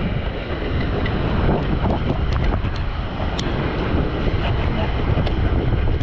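Strong wind at the beach before a surf session, buffeting the microphone in a loud, continuous low roar with faint surf underneath, no talk.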